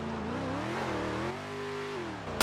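A car engine runs loud and close in the GTA V roleplay game, its steady droning note rising and falling slightly as the revs shift, with no talking over it.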